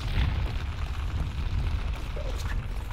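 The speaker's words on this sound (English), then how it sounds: "Why is there explosions?" Explosions rumble in the modded Minecraft game RLCraft, deep booming bursts with a continuous low roar, moderately loud and fairly close throughout.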